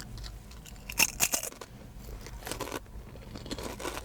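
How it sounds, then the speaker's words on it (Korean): Crunchy golden caviar-flavored potato chips bitten and chewed up close, with a couple of sharp crisp crunches early on followed by softer, quieter chewing and crinkling. "황금빛 캐비어 감자칩을 먹어보도록 하겠습니다"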